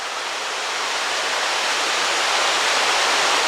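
Water of the River Severn flowing beneath a road bridge, a loud, steady broadband rush that holds even throughout with no talk.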